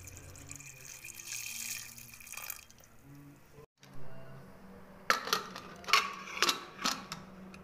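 Water poured into a pressure cooker over chickpeas for boiling, a running splash from a tap or jug followed by several sharp clinks and knocks of metal, close and moderate.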